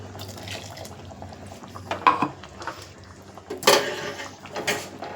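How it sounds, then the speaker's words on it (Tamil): A vessel rinsed with water is poured into a cooking pot of coconut curry: soft clinks of metal pots and utensils, a couple of louder splashing pours, close and intermittent. "கொஞ்சம் லைட்டாக அதுக்கு தண்ணி அலசி ஊற்றிடுவோம்."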